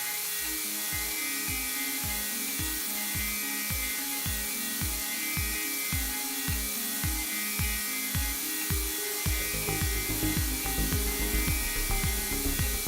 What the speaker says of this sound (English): And then the fine milling with the 8 mm radius cutter.